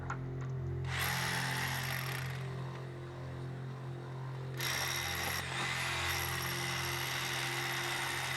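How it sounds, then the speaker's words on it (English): Power drill boring 16-18 mm holes into a house side foundation, high whining bursts of drilling that start, stop and restart over a continuous low hum, fairly close. "So this is drilling the 16-18 mil holes"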